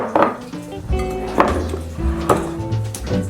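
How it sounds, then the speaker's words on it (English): Three taps of egg shell against a bowl holding a creamed sugar and butter mixture, with light clinks spaced about a second apart over steady background music. "We're gonna do 3 large eggs. Add our egg in here."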